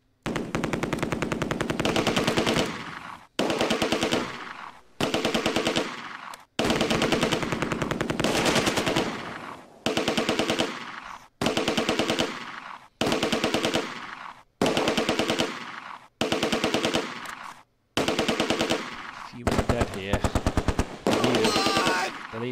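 Loud machine gun bursts from the video game Close Combat 2, about a dozen long rattling volleys of rapid fire separated by short silent gaps.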